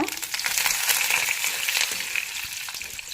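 Chana dal roasting in hot oil for puliyotharai, a steady close crackling sizzle with broad hiss running throughout, no voices over it.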